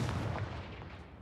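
A Confringo blast spell in Hogwarts Legacy, a single heavy, booming explosion with a rumbling decay, close and alone.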